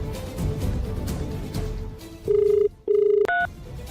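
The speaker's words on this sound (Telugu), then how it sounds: "చేయి సీత, ఫోన్ చేసి మాట్లాడు." A telephone is dialed on the set of a Telugu TV serial, producing several loud, even beeps and a brief chirp after a stretch of murmured background sound.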